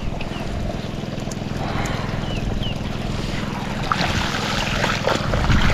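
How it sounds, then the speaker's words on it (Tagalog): Small engine running steadily through a long stretch while newly planted patola or ampalaya crops are watered in a field. The drone is continuous and near, with wind and outdoor noise over it and no talk. "Tuloy-tuloy, hindi na natin pinatay yung makina"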